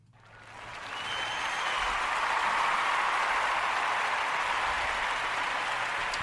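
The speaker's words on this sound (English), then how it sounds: "I'm going to give a round of applause to his wife." An audience breaks into a round of applause, swelling quickly from quiet into sustained, dense clapping that holds steady for several seconds, moderately loud and without talk.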